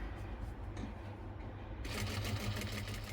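A sewing machine stitches a star-shaped neckline, its needle running in short mechanical bursts, quieter at first and then a louder, steady rattling run toward the end.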